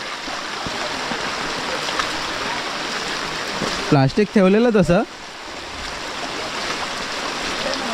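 A flowing village stream after rain, its steady rushing wash running continuously and fairly close, with a brief burst of voices talking over it midway.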